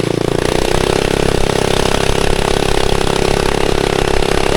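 A cheap flea-market engine fitted to a mini bike runs hard and continuously, a loud, close, buzzing drone that stays steady throughout with no pauses.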